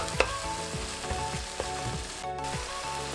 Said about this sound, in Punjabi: ਮਸਾਲਾ ਆਪਣਾ ਬਿਲਕੁਲ ਤੇਲ ਆ ਗਿਆ ਉੱਪਰ ਬਿਲਕੁਲ ਭੁੱਜ ਕੇ ਤਿਆਰ ਹੋ ਗਿਆ